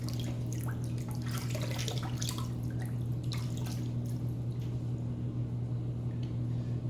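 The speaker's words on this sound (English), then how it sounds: "We'll do a quick rinse." Running water from a tap as a safety razor (Aristocrat set on 4, Statum blade) is rinsed during a New Year's Eve wet shave, a steady close splashing with scattered drips over a constant low hum.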